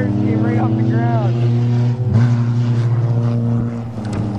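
A 2006 Ford F350 truck races a Camry and a Topaz, its engine droning loudly with shifting revs over a sustained motor hum, while someone talks over it.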